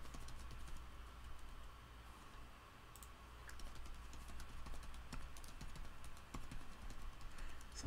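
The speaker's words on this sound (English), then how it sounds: "here, you just type up your email" Faint, steady tapping on a computer keyboard while an email is written, soft irregular keystrokes over a low room hum, with no voices.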